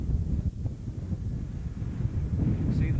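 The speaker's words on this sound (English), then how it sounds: "we're picking up a bit of a gust of wind at the same time" Wind gusts buffet an outdoor microphone on a tussock amid young first-year tree plantings, a steady low rumbling roar lasting throughout and swelling again toward the end.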